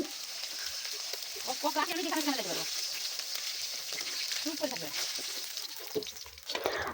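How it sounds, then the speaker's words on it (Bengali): Pangas fish frying in hot oil, a continuous close sizzle, with a voice talking intermittently over it. "আমি আজকের মাছগুলো একদম লাল লাল করে ভেজে তুলে নিচ্ছি"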